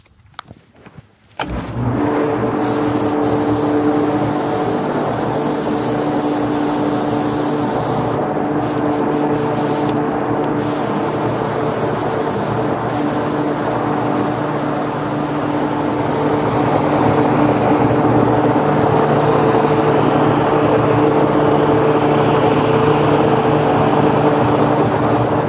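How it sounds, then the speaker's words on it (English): Spray gun painting a snowboard inside a running spray booth, a loud, continuous hissing spray over the booth's steady fan hum, starting abruptly after a brief quiet moment and running without pause. "It only takes one person to spray a snowboard anyway."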